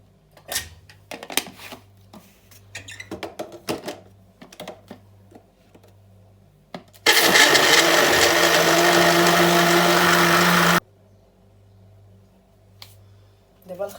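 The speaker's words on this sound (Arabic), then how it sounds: "وغنطحن هذا الخليط" A blender roars steadily for about four seconds, grinding dates with half a litre of milk for an apple dessert, preceded by clinks and kitchen handling under a woman's speech.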